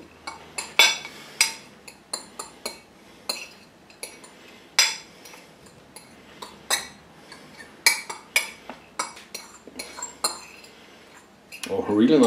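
Metal utensil mixing sausage with sweet toppings in a dish, giving a run of sharp clinks and scrapes that come in irregular bursts, close and fairly loud, with a brief rustle at the end.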